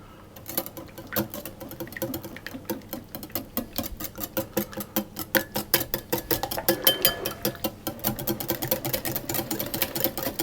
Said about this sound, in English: And then I'm going to whisk those together.